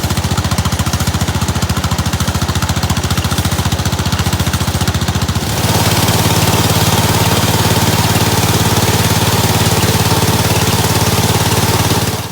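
An off-road riding lawn mower engine runs loud and close without pause, a rapid chugging throb that steps up to a fuller, busier roar partway through.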